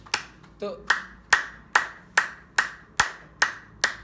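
Hand claps ring out one after another in a steady, evenly spaced rhythm, each crisp strike carrying a short resonant tail; a brief voice is heard near the start.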